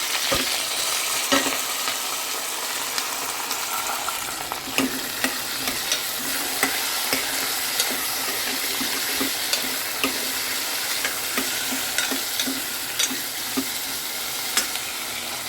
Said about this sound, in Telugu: ఇక ఆలు వేసేద్దాం